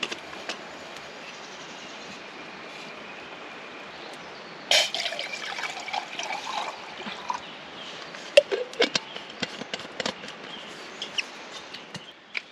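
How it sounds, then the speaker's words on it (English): Water trickles and splashes into a pot at a woodland tarp camp, starting abruptly after a quiet stretch, then continuing in uneven pours and drips with sharp clinks, close by. "Let's get some water in."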